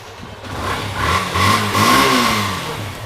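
A used Yamaha FZ motorcycle engine revs up nearby, rising and falling in pitch over a steady rumbling idle.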